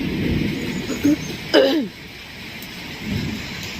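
Heavy rain pours steadily outside a house during a thunderstorm, a loud continuous wash with a brief sharp rumble or crack near the middle and a softer swell toward the end.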